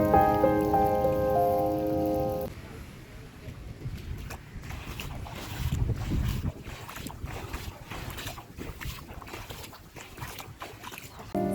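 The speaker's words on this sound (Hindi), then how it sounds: "बारिश बहुत तेज़ हो रहा है।" Heavy rain pours down in a dense, steady hiss, with wind gusting through. A tonal hum fades out in the first couple of seconds.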